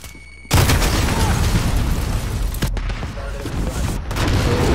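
A grenade blast in Call of Duty: Modern Warfare multiplayer erupts suddenly and loudly, followed by a rumbling tail and scattered gunfire and impacts throughout.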